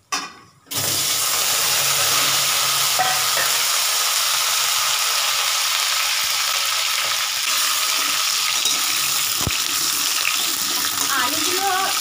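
Carrots and ash gourd drop into hot oil in a pan and set off a loud, steady sizzle that runs on after a brief quiet start, with faint stirring scrapes and an occasional knock against the pan.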